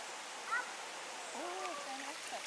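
A gently flowing stream in Ireland murmurs in a soft, even hiss beneath a narrator's calm speaking voice.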